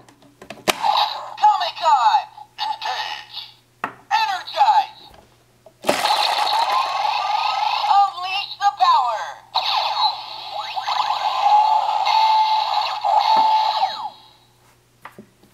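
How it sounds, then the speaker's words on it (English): A Mighty Morphin Power Rangers Dino Charger toy, a Comic-Con exclusive, plays bursts of bright electronic sound effects and tones in several short pulses followed by a longer continuous stretch, fairly loud and close. "all of these other ones, I believe, play the same sound because they all have the same pins right there"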